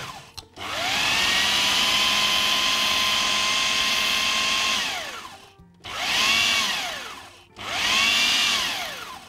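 Food processor blitzing cold cubed butter for a banoffee tart dough, a loud steady whirring motor run in three bursts, the first long, then two shorter pulses with brief stops between.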